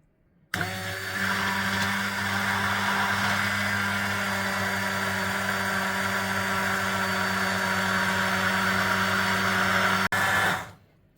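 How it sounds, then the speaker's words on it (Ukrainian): A hand blender whirs on abruptly and runs at a steady, loud hum for about ten seconds, mixing egg, salt, sugar and vinegar for homemade mayonnaise, before cutting off. "І тож виливаємо яйце, беремо блендер."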